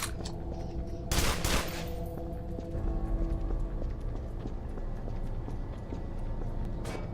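Turret firing in the shooter game EYE Divine Cybermancy: a loud, continuous rapid rattle of automatic gunfire over dense game noise, with brief bright bursts near the start and end.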